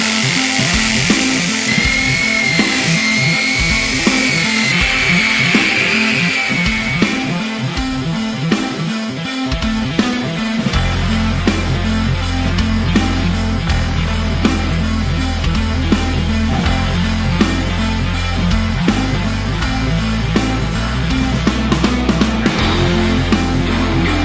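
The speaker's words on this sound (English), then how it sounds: "So today's tool of choice is an orbital sander." An orbital sander fitted with 150 grit sandpaper grinds rust off a metal roof, giving a loud, steady, continuous buzz that runs the whole way through.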